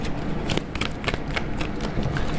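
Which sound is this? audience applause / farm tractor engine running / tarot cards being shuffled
tarot cards being shuffled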